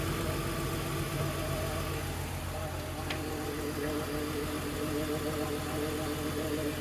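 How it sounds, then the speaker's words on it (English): A BMW E46 engine idles steadily after a spark plug change, a low, even mechanical rumble that holds without surges or misfire-like stumbles for several seconds, heard close and alone. "put it all in and then start the car up"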